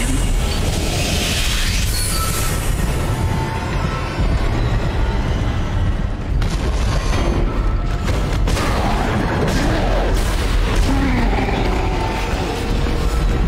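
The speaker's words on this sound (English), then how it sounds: "that thing's just gonna explode very much" A constant loud roar of rumbling booms and mechanical din with scattered blasts, dense and unbroken throughout, from explosions in the video game Dead Space.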